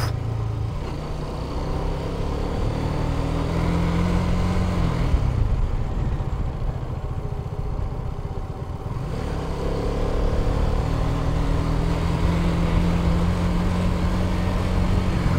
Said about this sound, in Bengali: এই স্পোর্টস বাইকগুলোতে একটাই মজা, মনে করেন এত সুন্দর ব্যালেন্স